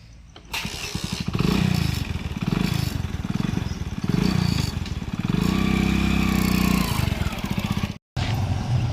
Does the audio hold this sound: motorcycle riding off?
yes